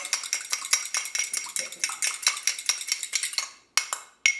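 A whisk or fork beats rapidly against a bowl, mixing a vinegar and olive oil salad dressing in quick, bright, rhythmic clinks that stop abruptly near the end, with no talking.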